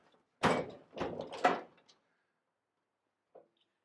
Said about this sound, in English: But you're going to press the door button. That latch comes undone.